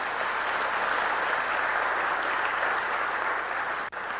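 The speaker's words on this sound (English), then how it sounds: "hold your applause to the end" Audience applauding a flutist being introduced at a music lecture, a steady, even roar of clapping that holds at constant level before a brief dropout near the end.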